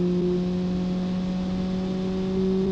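A Kiev Motors Grot in BeamNG, a 1.2-liter 85-horsepower inline-four with two valves and dual overhead cams, held at full throttle, a steady sustained engine drone with strong even harmonics, loud and close, no talking.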